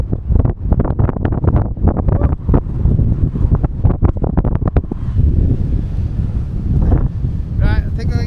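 Strong wind buffeting a microphone on a coastal hike along the North Wales coast near Yr Eifl, a loud continuous rumbling roar with gusty bursts, heavy throughout and mixed with occasional talk.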